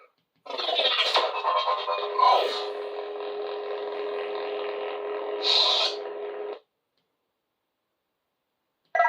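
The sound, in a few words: Saberspro Rogue lightsaber photon ignition sound effect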